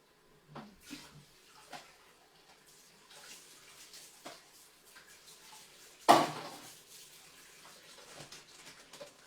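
Ingredients are rinsed under running water in a measuring colander at a kitchen sink, with soft splashing, a few light clinks and one sharper knock partway through, all fairly quiet.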